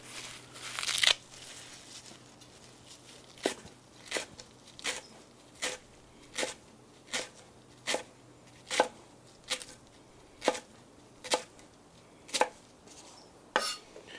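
A knife minces fresh flat-leaf Italian parsley on a board: crisp, evenly spaced chops, about one every half second after a brief opening flurry. Close and clear with no talk.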